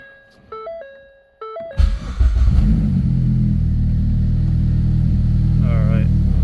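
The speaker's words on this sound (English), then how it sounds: "we're going to start the car." A Ford Focus ST with a big turbo starts up after a few electronic chimes, then its engine settles into a loud, steady close idle with a slight rev.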